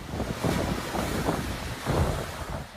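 Hurricane winds roar and buffet the microphone amid crashing surge waters, loud gusty surges swelling around the middle and again near the end.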